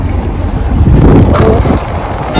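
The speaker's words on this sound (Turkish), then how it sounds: "Çok rüzgar var." Heavy wind buffets the microphone with loud, continuous rumbling gusts throughout, with no speech.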